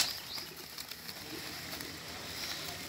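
A Lalchina pigeon flaps its wings in a faint, soft flutter of quick wingbeats, heard close by against a quiet background.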